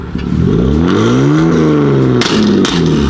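A BMW M3 in Sport Plus mode is revved hard and close, its engine note climbing and falling in loud, sweeping pulls with a brief dip before surging again.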